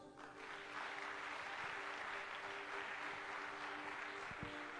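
A congregation at a church deliverance service applauds for Jesus, with dense, steady clapping that swells in quickly and continues strongly throughout.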